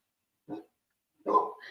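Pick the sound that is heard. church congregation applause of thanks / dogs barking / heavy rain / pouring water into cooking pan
dogs barking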